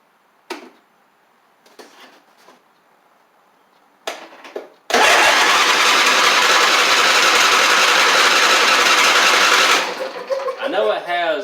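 The engine of a John Deere D140 riding mower, which had been blowing fuses, cranks over loudly and continuously for about five seconds without catching. A few clicks come before it, and someone talks just after.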